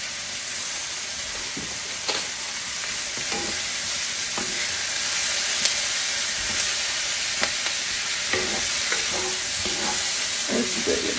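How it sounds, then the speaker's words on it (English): Zucchini, mushroom and onion sauté in butter in a pan, a steady close sizzle and hiss broken by occasional scrapes and taps of a stirring utensil. "We're going to saute this and we'll be back."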